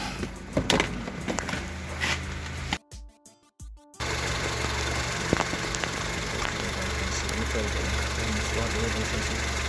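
A Honda car engine idles with a steady low rumble, briefly cut off in the middle before the hum returns, with some handling noises early on.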